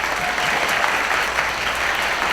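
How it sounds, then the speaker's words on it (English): An audience at a school Student of the Month award ceremony claps steadily, a dense, even wash of applause with no break and no talk over it. "So a big round of applause"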